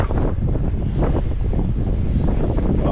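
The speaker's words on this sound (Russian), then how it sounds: "Ах, собака, ветер." Wind buffets the microphone while riding an e-MTB, a loud, continuous low rumble with no other clear sounds for three seconds.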